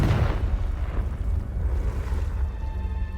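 A Confringo fire spell blasting in Hogwarts Legacy on Xbox Series X, a loud rumbling low explosion that bursts at the start and keeps roaring and crackling through the whole clip.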